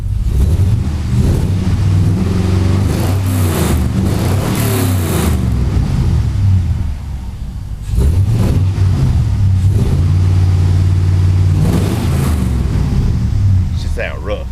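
An old pickup truck with a swapped LS engine runs rough nearby, a loud uneven idle with surging revs and choppy pulsing, with a person talking over it.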